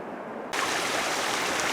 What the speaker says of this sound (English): A couple of nice waterfalls.